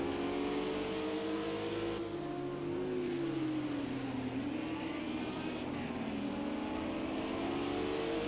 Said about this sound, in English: under braking, the NSX closes in on the Lambo again